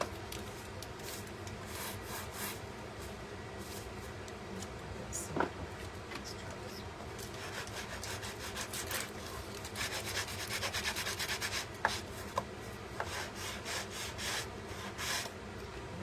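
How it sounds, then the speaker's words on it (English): A wooden piece being sanded with a sander, a continuous rough rubbing and grinding texture with scattered scratchy bursts and a few sharp knocks, moderately quiet and steady throughout. "let me take this sander where I kind of bummed it up some. Just take some of this off."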